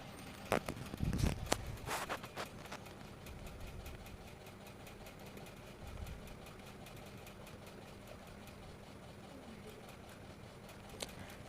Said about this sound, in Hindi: इस पर अब एक पैर की सिलाई से हमें पूरे ही नेक पर इसको हमें अटैच कर देना है